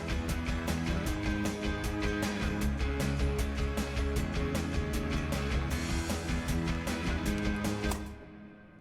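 Full rock arrangement with distorted electric guitars, heavy pounding drums, synth and organ playing loud and steady throughout, then cutting off abruptly near the end.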